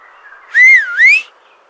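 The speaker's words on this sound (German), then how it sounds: "Als er durch die Finger gepfiffen hat, sind die zwei Geissen, die neben aussen gestanden sind, wieder zurück in die Herde gekommen" A sharp two-note whistle made through the fingers by a goatherd calling goats on an alpine pasture, rising and bending in two loud, close bursts of about a second in total.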